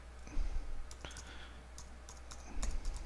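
A handful of sharp clicks from a computer mouse or keyboard come at irregular intervals in a quiet room. They are fairly close and stand out against a low background hum.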